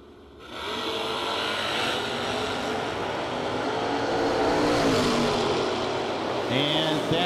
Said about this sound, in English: 90 Mustang, 377 cubic inches of, I believe, Ford motor rolling around up there.